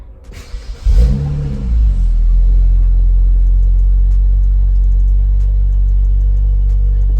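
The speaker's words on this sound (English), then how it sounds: "we want to go ahead and start the engine" A BMW car engine cranks briefly, catches, and revs up, then settles into a steady, loud, deep idle rumble close by.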